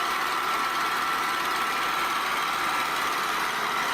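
Motorbikes ride by on a busy Cambodian street, their engines making a steady, dense drone of idling and passing motors with no clear breaks and no talk.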